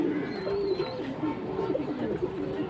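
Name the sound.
high-flying pigeons cooing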